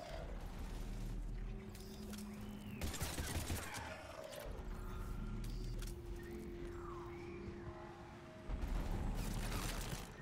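Gunfire in Mass Effect 3 Legendary Edition on PC, with bursts of shots and mechanical clatter aimed at the player, mixed with game effects and background music at a moderate, steady level.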